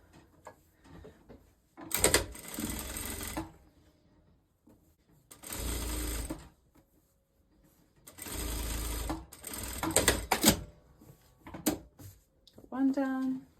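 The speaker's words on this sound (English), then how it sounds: "before sewing it down." A sewing machine sews a hem on a wrap dress in several separate bursts of a few seconds each, fairly close and steady, with quiet gaps and brief handling noises between runs.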